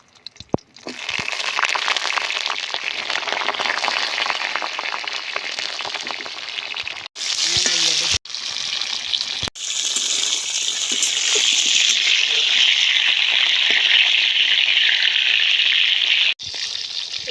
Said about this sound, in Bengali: তেল কড়াই গরম হয়ে গেছে পটলগুলো বাজিয়ে নেবো তেল দিয়ে